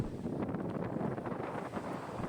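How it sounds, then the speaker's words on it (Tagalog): Strong wind in Lobo, Batangas buffeting the microphone in a low, rumbling roar, gusting steadily through the short moment with no voices. "medyo malakas yung hangin"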